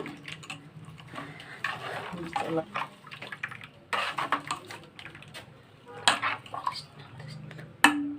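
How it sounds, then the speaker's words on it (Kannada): A ladle mixes finely ground masala into water in a vessel for obbattu saaru, giving irregular scraping and clinking strokes against the pot, with a sharp knock near the end and talk in the background. "ಈ ಥರ ಸೌಟಿನ ಸಹಾಯದಿಂದ ನೀವು ಈ ಥರ ಚೆನ್ನಾಗಿ ಕಲಿಸ್ಕೋಬೇಕು"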